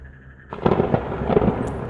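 A sudden deep rumbling crash of thunder breaks in after a quiet hum, rolling and crackling loudly until the end.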